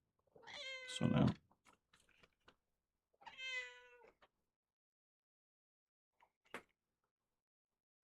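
A cat meows twice in a room where mouse parts are being worked on, two drawn-out harmonic cries a couple of seconds apart, close and clear, followed by a short faint click and a brief sharp knock.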